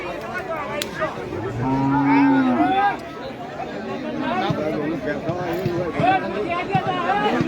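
Cattle and buffalo at the Manikganj livestock market in Nabinagar, one clear long moo standing out near the start amid busy crowd chatter and people talking throughout.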